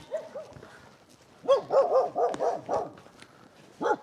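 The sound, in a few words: dog barking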